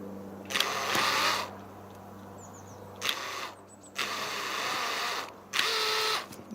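Drill boring a hole in the top of a coconut for a cord while making a bird feeder; three separate bursts of whirring drilling, close and fairly loud, with a steady hum between them.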